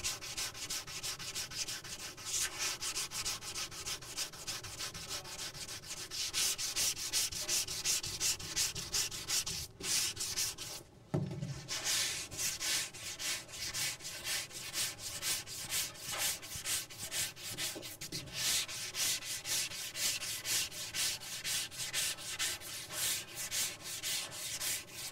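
Steady hand block sanding across a car body panel during final surface prep, a continuous close scratchy rubbing in long even strokes with a brief pause near the middle and no talk.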